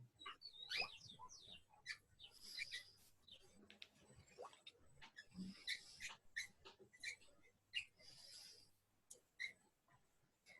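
Small birds chirp and tweet in short, scattered bursts throughout, fairly faint behind a quiet indoor setting during a Spanish-language Bible reading session.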